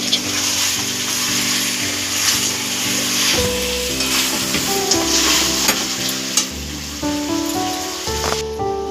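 Chicken pieces being stirred and fried in a hot pan for a Bengali kosha curry, a loud continuous sizzle with scraping stir strokes throughout, close up and alone.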